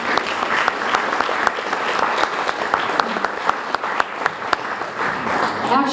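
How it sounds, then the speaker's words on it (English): Audience applause at a book launch event for a West Palm Beach book, a dense steady crowd clapping for about six seconds with sharper individual claps standing out near the listener. "we can give you a round of applause"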